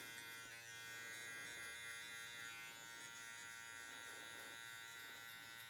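Gamma Boosted hair clipper with a 1.5 guard, lever set halfway open, cutting fine hair during an outdoor haircut; a steady, close electric buzz runs throughout with no talking.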